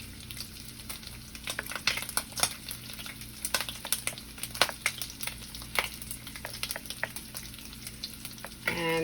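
A pot of grits with melting cheese cooks on the stove, giving off frequent soft pops and crackling bubbles against a steady low hum.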